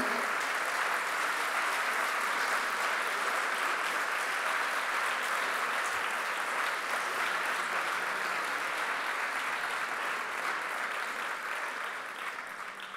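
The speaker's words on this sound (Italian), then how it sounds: "E vi chiederei un applauso" A conference audience applauds steadily and loudly after a speech, a dense wash of clapping that holds even and tapers only slightly at the end.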